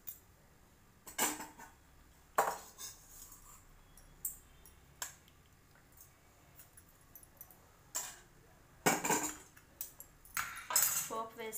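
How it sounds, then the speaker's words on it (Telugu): Spoon clinks and scrapes against a steel bowl while tempered cucumber and fresh coconut chutney is mixed. The metallic knocks come as sparse, irregular taps over near silence. "పోపు వేసుకుని కూడా బాగా కలిపేసుకోవడమే."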